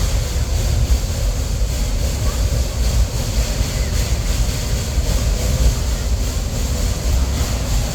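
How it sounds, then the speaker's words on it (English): Riding on a railroad, the train gives off a constant heavy rumble and clatter of wheels on rails, close and sustained with no pauses. "Our train is now quickly approaching."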